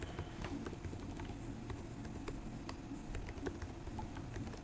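Rapid typing on a computer keyboard while entering a database username for a Docker demonstration, steady clicking keystrokes at close range with a soft background hiss and no talk.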